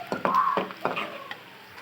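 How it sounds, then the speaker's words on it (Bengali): Bottle gourd greens are tossed into a pan of sizzling garlic and chili for a dried fish dish, a few quick scraping stirs over a soft sizzle. "এই যে আমি শাকগুলো এখন দিয়ে দিচ্ছি রসুন মরিচের মধ্যে বাগার।"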